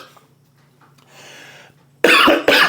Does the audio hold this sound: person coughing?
yes